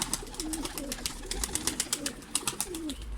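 Soft, low cooing of a homing pigeon repeats over rapid light ticking and tapping, with faint outdoor background noise.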